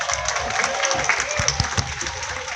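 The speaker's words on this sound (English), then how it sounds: "how about a round of applause for Maxim?" An audience claps and cheers steadily throughout a lion show at Cairns Lion Island, dense continuous applause filling the space.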